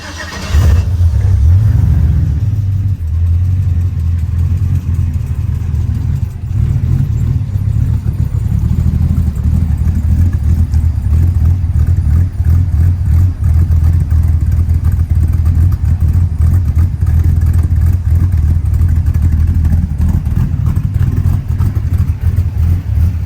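The LS3 engine swapped into a 1949 Chevy five-window pickup, still without a tune, starts up loud and close, then settles into a deep, rough, pulsing idle that holds for a long stretch.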